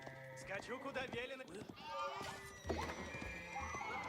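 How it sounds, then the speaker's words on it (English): Sheep bleat repeatedly in an Age of Empires match, with wavering in-game calls and a horse whinny mixed in, under continuous commentary speech. "You don't really want to donate some sheep here."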